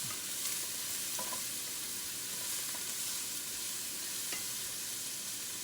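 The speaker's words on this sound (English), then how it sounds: "I'm going to sweat these, saute them down." Vegetables sauté in a pan with a soft, steady sizzle and hiss and a few faint clicks of stirring, low in level with no voices.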